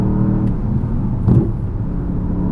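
A 2021 Porsche Panamera Turbo S pulling hard out of a corner on a road, its engine a steady close whirring rumble that swells briefly mid-clip, with no voices.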